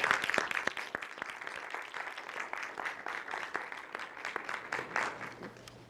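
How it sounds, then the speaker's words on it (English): Audience applause welcoming a woman author to the stage at a book festival author day, a steady patter of claps throughout with scattered sharper claps near the front, no talking over it. "Let's welcome her with a hand of applause as she comes forward at this moment"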